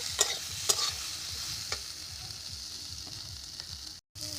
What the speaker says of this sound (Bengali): এবার আমলকিটা কড়াইতে দিয়ে দিচ্ছি এবার ভালো করে কম জালে এবার ভালো করে নেড়ে নিতে হবে